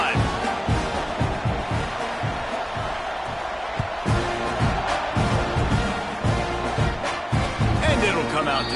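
A stadium crowd at a football game roars continuously and loudly at kickoff, a dense wall of cheering and whooping that stays intense throughout, with an announcer talking over it.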